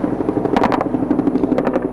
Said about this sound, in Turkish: Kobra helikopterleri de teröristlerin bulunduğu noktaları yoğun ateş altına aldı